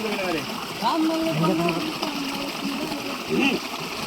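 Stream water flowing and splashing outdoors during a rainy-weather trek, a steady broadband rush with splashy bursts, heard under overlapping voices of people talking nearby.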